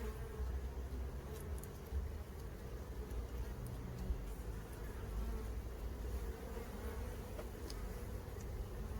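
A dense, steady drone of many honeybees buzzing close by at an open hive, continuous and low-pitched, with a faint murmur of background noise.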